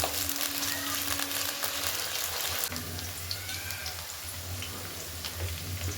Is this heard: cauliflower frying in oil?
yes